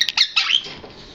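A pet bird squawks at a dog trying to get into its cage, giving several sharp, shrill squawks close by in the first half, then the sound trails off into quiet room noise.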